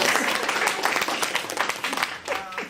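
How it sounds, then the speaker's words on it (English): Scholarship awards audience applauds at a Lions club event, a dense burst of many hands clapping nearby with voices mixed in, tapering slightly toward the end. "You can come on up and clap. Everyone can clap for him."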